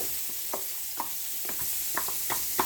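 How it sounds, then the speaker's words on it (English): Onion and capsicum frying in a pan, a steady sizzle running throughout with scattered light scraping clicks as the vegetables are stirred for browning, no voices. "So you want to brown your onion first, and your capsicum."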